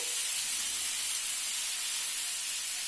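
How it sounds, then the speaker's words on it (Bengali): Black cumin seeds fry in a little mustard oil, giving a constant, fairly loud, bright hiss of sizzling with no breaks and no voices. "এটা আমি কালো জিরে আর তেল সামান্য একটু সর্ষে তেল দিয়েছি এটা একটু ভাজা ভাজা হবে"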